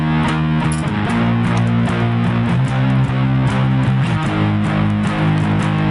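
Distorted electric guitar plays chords, a thick, dense, continuous strummed wall of sound with shifting chords, loud and alone.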